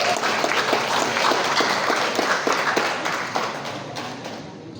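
Audience applause at a Nahdlatul Ulama gathering in North Sulawesi, a dense, steady wash of many hands clapping that carries on for several seconds and fades slightly toward the end, with no voices over it.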